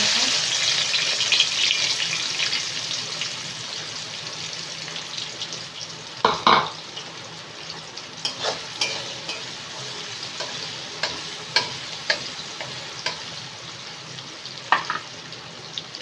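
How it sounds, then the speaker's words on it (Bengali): Onions for biryani hit hot oil with a loud hiss, then a softer continuous sizzle follows, punctuated by a string of sharp spatula taps and stirring knocks, close up with no talk. "এবার পেঁয়াজগুলো দিয়ে দিলাম"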